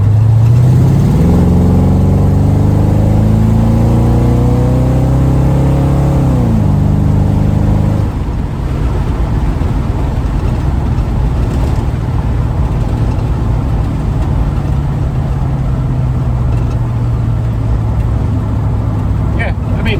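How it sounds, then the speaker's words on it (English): A 1936 coupe accelerating hard, engine note climbing steadily through the gears for several seconds, then the throttle closing and the engine dropping to a lower, rougher decelerating drone, loud and close as heard from inside the car. "Try the acceleration and then deceleration test."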